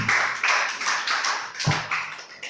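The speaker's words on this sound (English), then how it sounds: "Clap up for her." Congregation in a church service clapping, a dense run of hand claps filling the space at a steady, fairly loud level, with no talk over it.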